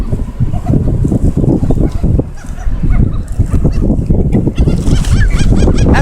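Geese honk loudly and continuously in a dense flock, overlapping calls crowding close to the listener with no pauses throughout.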